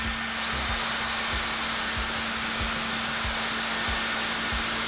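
A cheap leaf blower with a brush motor and centrifugal fan runs steadily at full power, giving a loud, constant high-pitched whine and rushing air with a low rhythmic pulsing underneath, close to the listener.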